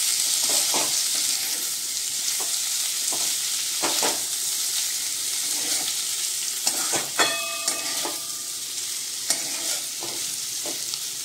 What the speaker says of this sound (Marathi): मिक्स करूया आता हे सर्व आपण